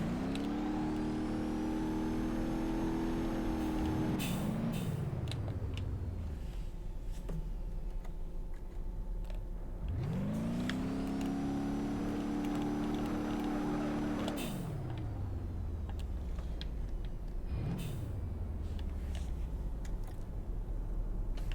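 A 7.3 Powerstroke truck engine in BeamNG.Drive revs up loudly three times, each long droning pull rising in pitch and then dropping away, with a steady engine hum between the bursts.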